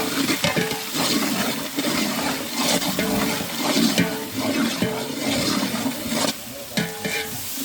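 Onions frying in oil and being stirred in a large pot for a 3 kg Dindigul chicken biryani, with a steady loud sizzle and repeated scraping stir strokes throughout.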